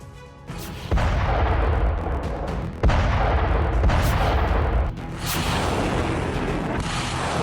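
Explosions and Russian tank cannon fire in a Ukrainian war zone: several heavy booming blasts, about four in quick succession, each followed by a rumbling decay, loud and fairly close.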